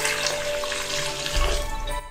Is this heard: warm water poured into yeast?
yes